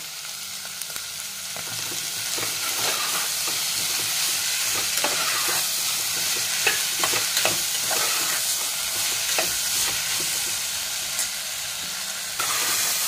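Vegetables for masala rice being stir-fried in a pan, with a steady close sizzle and repeated scraping and clinking of a spatula stirring throughout, no talk.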